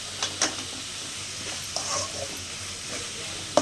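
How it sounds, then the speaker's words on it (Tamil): Chopped onions with a little salt sauté in a pan for a Tamil egg poriyal, giving a soft, steady sizzle with a few light stirring scrapes and taps, fairly quiet throughout. "வெங்காயம் வந்துட்டு நல்லா வதங்கணும்."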